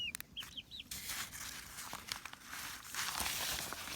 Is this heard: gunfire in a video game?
no